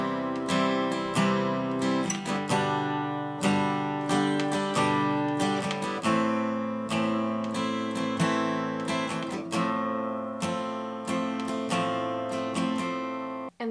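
Acoustic guitar played in a steady down-up strumming pattern through a full measure, bright chords ringing continuously with evenly spaced strokes, close and clear with no talking.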